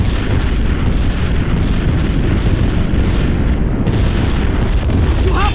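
Heavy, continuous weapon fire pounds at the Celestial during a Guardians of the Galaxy Telltale boss fight, a loud, dense barrage of booms rumbling without pause under game dialogue.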